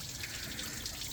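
Water and coolant drain steadily from the radiator cooling system of a 2002-2005 Mercury Mountaineer during a flush, making a continuous close splashing gush without pause.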